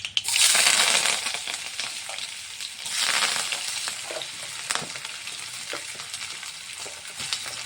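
Sliced onions, curry leaves and green chilies dropped into hot oil for a taro and egg curry, a loud bright sizzle that bursts at the start, swells again partway through, then settles into a softer crackle with occasional clinks.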